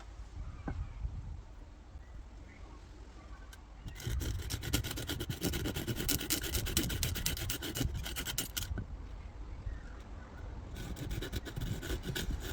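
A saw cutting a wooden spoon blank rasps in steady strokes, quieter at first and then louder and denser in two long bursts, close and with no talk.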